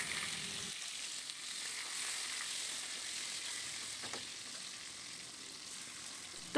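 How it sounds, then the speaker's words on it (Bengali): Chopped onions and garam masala frying in oil in a pan, a steady broad sizzle with faint stirring scrapes, close and continuous with no talking. "গরম মশলা, পেঁয়াজ কুচি এগুলো দিয়ে একটু ভাজা ভাজা করে নেব"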